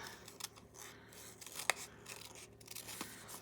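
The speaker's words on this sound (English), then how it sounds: "just snip it. And then I'm going to cut to the inside of our shape" Scissors snip and cut around a stamped paper card shape, giving faint, close, irregular crisp clicks and rustling slices with one sharper snip in the middle.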